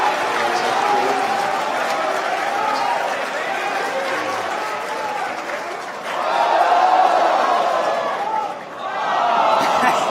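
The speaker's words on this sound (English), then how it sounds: "you're hearing everyone cheer right now because coming into the drone ship" A crowd of onlookers cheers and shouts as a SpaceX Falcon booster comes down onto a drone ship in the Atlantic Ocean after the JCSAT-14 launch, with sustained roaring excitement swelling and dipping and voices talking over it.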